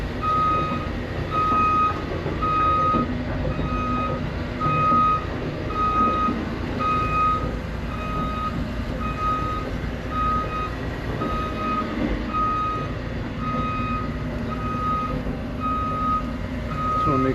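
A heavy haul truck crawls slowly in reverse, its backup alarm beeping steadily in an even rhythm over a low, continuous diesel rumble and rattle, close by and alone with no talk.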